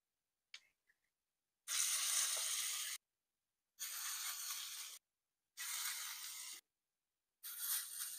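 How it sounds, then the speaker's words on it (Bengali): Potato pakoras fry in a small amount of oil on a hot tawa, giving four separate bursts of bright sizzling hiss, each about a second long, with silence between them and no voices. "এখন পকোড়াগুলো ভেজে নেব"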